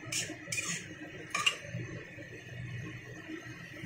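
Spices being stirred in a cooking pan for a Bengali fish curry with black cumin, light metal scrapes and clinks over a quiet simmering background, a few sharper taps early on.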